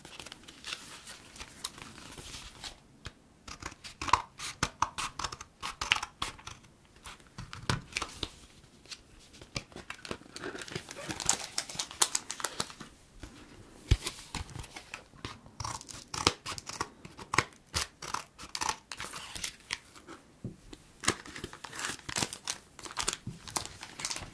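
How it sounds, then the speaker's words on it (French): One Piece card booster packs are pushed and peeled out of a hard plastic blister, giving a long run of close crinkling, crackling and snapping plastic in irregular bursts, quiet and intimate, with no talk. "nous allons commencer par retirer les boosters de leur blister solide"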